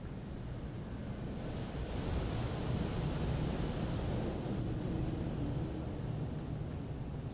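Steady, loud wind noise blows continuously through a video game's mountain zone, a broad, even rush with no breaks and no one speaking.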